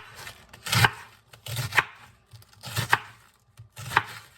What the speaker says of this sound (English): So I am just going to cut the cabbage